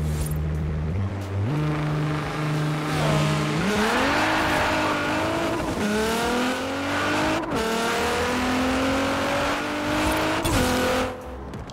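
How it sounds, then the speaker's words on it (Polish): In the video game Forza Horizon 4, a racing car engine revs up through several gear shifts during a launch-control start, with tires squealing in a sustained, rising whine. "słyszeliście tam pisk opon"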